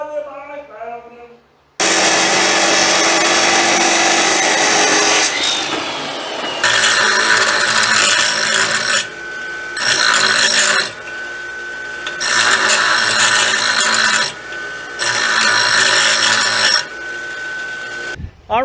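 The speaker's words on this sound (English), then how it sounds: "cut a little bit of metal and do a little bit of tacking" A power tool cutting metal for a homemade rack and pinion on a 1940 Chevy coupe, loud harsh grinding bursts that start, stop and restart in several long runs, with no talking.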